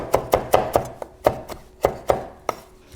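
A knife chops fresh parsley on a cutting board: about ten sharp, close knocks in a quick, slightly uneven rhythm, with no voices.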